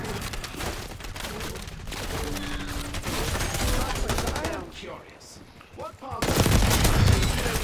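Sustained automatic gunfire in the Call of Duty: Black Ops 6 video game rattles loudly in dense overlapping bursts, thins briefly for about a second, then resumes at full intensity, with a voice occasionally audible underneath.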